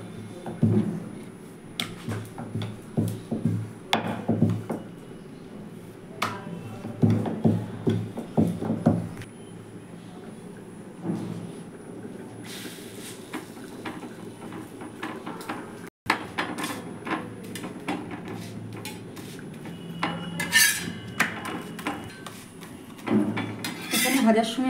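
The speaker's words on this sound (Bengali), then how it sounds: "এবার আমি এক এক করে বেলে নিচ্ছি।" Paratha dough being rolled out one piece at a time for an oil-free breakfast paratha, giving repeated soft knocks and rolling-pin taps on a board in bursts, with light kitchen clatter throughout.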